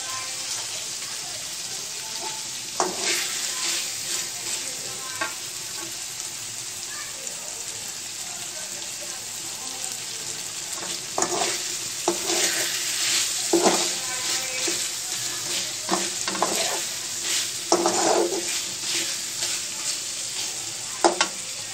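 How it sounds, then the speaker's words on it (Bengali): Marinated beef with onions fries on a stove, a constant sizzle broken by clusters of scraping, clattering stirs in the pot, with no talk. "সেই মাংসটুকুই আমি পেঁয়াজ দিয়ে চুলায় বসিয়ে দিয়েছি"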